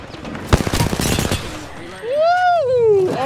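Video game gunfire in Apex Legends comes as a rapid burst of automatic shots, loud and close, followed by a rising electronic whine.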